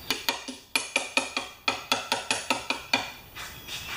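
Sharp metallic taps from a hammer on a socket against a Craftsman 6HP mower's faulty primer button, about a dozen quick ringing strikes in an uneven rhythm, close and fairly quiet.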